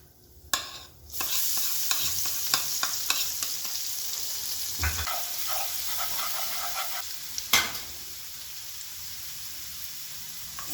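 Turmeric stirred into sizzling oil in a cooking pan, a spoon scraping and clattering in irregular strokes over a constant loud frying hiss, near and clear without voices.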